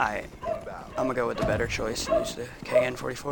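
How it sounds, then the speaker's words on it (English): Someone talks steadily over Black Ops 3 gameplay while dogs bark and yip in the background, the barks loud and frequent beneath his voice. "I apologize if you hear dogs barking."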